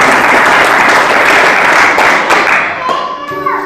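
A church congregation claps loudly together in a dense burst that fades after about three seconds, giving way to a few musical tones and faint voices.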